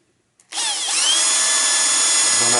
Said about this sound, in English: And then we're going to drill a little bit.